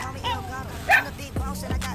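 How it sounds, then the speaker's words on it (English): A small new puppy barks and yips in a few short, high bursts at close range, with people talking over and between the barks. "Small puppy, my new puppy."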